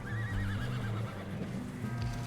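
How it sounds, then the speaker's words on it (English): Horse whinnying in Red Dead Redemption 2, a high wavering neigh over steady hoof clops and low rumbling game ambience, loud and continuous throughout. "Get on your horse."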